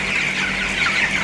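Poultry-farm chickens cluck in a steady, close, moderately loud wash of overlapping hen calls over a continuous low hum, with no voices.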